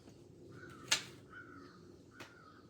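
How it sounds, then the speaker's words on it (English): Crows caw outdoors, with one loud, harsh call followed by a couple of fainter caws over a steady background hiss. "Crows crowing."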